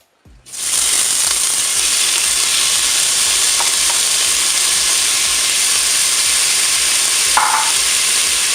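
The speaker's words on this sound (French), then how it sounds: "l'huile est chaude, donc je vais mettre tout de suite les oignons" Onions drop into hot oil in a Cookeo multicooker and set off a loud, steady sizzle that runs unbroken, with a brief clatter near the end.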